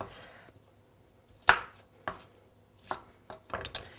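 A knife chops butternut squash, skin on, into big pieces on a cutting board: five or six sharp, separate thuds at an uneven pace, close and clear with quiet gaps between cuts.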